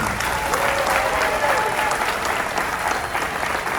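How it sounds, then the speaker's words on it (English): Sailors at a shipboard deployment event give an even round of applause for the morale and recreation team, a close, continuous wash of many hands clapping. "So how about a round of applause for our MWR team?"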